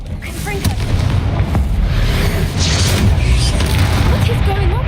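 A Confringo fire spell explodes in the Hogwarts Legacy video game, booming bursts and crackling blasts over continuous rumbling combat noise, with a voice talking.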